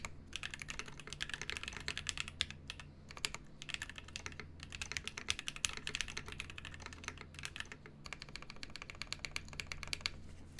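A rebuilt mechanical keyboard with a tape mod is typed on at a steady fast pace, dense soft clacks in bursts with brief pauses, close and fairly quiet, no voices.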